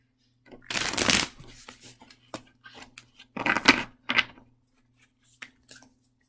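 Tarot cards being shuffled up close: a long riffling burst, a few soft taps and flicks, then another riffle and scattered light card sounds.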